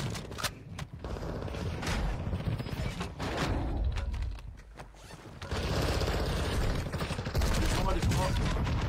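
Dense bursts of video game gunfire crackle almost nonstop through a Resurgence match, with rapid rattling shots layered over busy background game noise.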